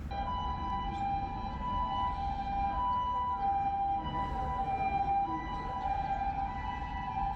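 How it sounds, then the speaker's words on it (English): A loud ambulance siren wails steadily in a Japanese town, its sustained tone carrying on with little variation over a low background rumble. "I think that's just your normal ambulance siren, because it is so fucking loud"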